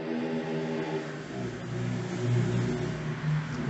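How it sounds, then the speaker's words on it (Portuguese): A motorcycle passes on a street, its engine droning steadily and swelling slightly as it goes by, heard continuously through the whole stretch with no talk over it. "Espera só essa moto passar."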